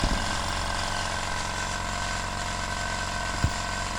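A Hyundai 24-litre super silent air compressor runs with a steady mechanical motor hum, droning on continuously at close range, with a low-pitched engine-like rumble and a single brief knock near the end.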